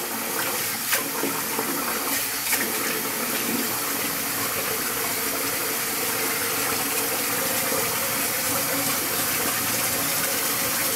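Steady rushing water from a tap rinsing after a shave in a bathroom, a continuous loud broadband wash with no pauses and no talking.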